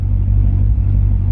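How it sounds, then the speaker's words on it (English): A Duramax diesel truck engine idles close by with a steady, low droning rumble that fills the cab evenly from start to finish. "The car's idling, and it's pretty droney in here right now."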